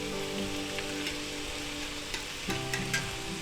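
Vienna sausages and vegetables stir-frying in garlic butter give a steady, close sizzle and crackle, with a few sharper spatters and stirring bumps near the end.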